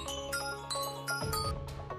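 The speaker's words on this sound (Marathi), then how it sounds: "दादा, अमूल्याचा फोन आहे." A phone ringtone plays a bright, repeating electronic melody of chiming notes, clear and steady with no talk over it.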